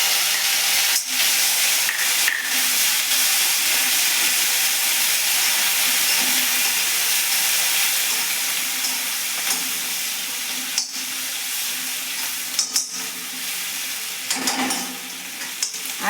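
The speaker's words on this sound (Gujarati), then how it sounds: "આદુ લસણ મરચાંની પેસ્ટ થોડી સતળાઈ જાય" Ginger, garlic and green chilli paste sizzling in hot oil with cumin seeds for a fresh turmeric curry, a loud, continuous hiss up close, with occasional taps and scrapes of a spoon.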